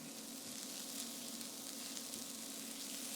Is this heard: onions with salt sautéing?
yes